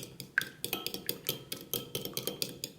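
A spoon stirs a homemade keratin hair mask with apple vinegar in a bowl, producing quick, rhythmic clinks and scrapes close by, steady and alone.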